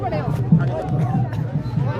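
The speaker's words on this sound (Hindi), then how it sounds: "समर्थकों की भीड़ यहाँ पर आपको देखने को मिल रही है" Crowd of political supporters gathered in Jammu, a steady close babble of many overlapping voices with occasional louder calls rising from the hubbub.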